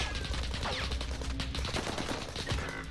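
Rapid automatic gunfire from the Warzone video game, a continuous rattle of shots heard close and steady through the whole short stretch, with no talking over it.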